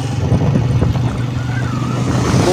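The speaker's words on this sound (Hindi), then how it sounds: "बाइक पे आने को दिल नहीं था करता, मगर अब मजबूरी है" A motorbike engine hums steadily and close by during a cold rural ride to fetch animal fodder. The low drone keeps an even pitch, with wind and road noise layered on top.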